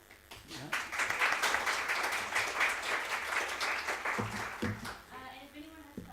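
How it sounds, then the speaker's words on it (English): An audience applauds with quiet, fairly distant clapping that swells after a moment and continues steadily, then fades as voices begin speaking near the end. "So let's give them a round of applause."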